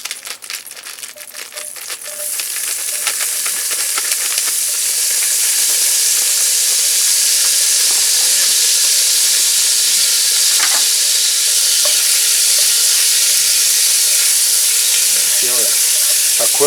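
Half an 8-ounce package of ham cubes sizzles in a hot Dutch oven; an initial clatter of pieces dropping in gives way to a loud, steady frying hiss that holds to the end.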